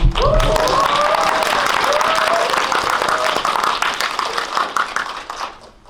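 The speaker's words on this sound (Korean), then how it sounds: "재미있게 보셨다면 큰 박수 한번." A cinema audience at a stage greeting after a film screening in a CGV theater gives loud, dense applause with some voices mixed in. The clapping thins and fades out toward the end.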